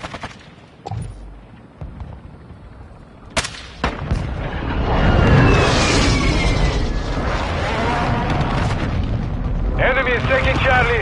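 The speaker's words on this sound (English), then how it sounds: "Hostile airstrike incoming." Video game airstrike in a ground war match: heavy explosions boom and rumble in quick succession, then build into a sustained roaring barrage with whistling debris, loud and close, with a few sharp gunshot-like cracks before it.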